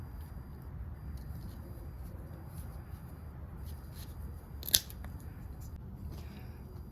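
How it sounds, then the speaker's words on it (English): A single sharp snip of scissors cutting through the knot of a pull rope on an Ariens Deluxe 24-inch snowblower recoil starter, brief and close, over a low steady background hum. "I'm gonna cut this knot."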